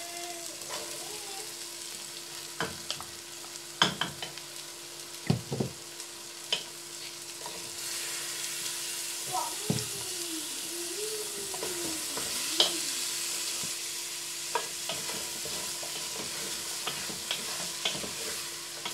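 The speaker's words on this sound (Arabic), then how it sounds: "نزيدو نخليو هذيك الخضره تتقلى" Vegetables fry in a pan for Algerian berkoukes, a continuous soft sizzle with intermittent clacks and scrapes of stirring, the hiss brightening partway through.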